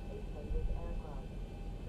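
Airliner jet engines run in the flight simulator X-Plane 11, a steady low roar with a faint high whine heard from the cockpit under a voice.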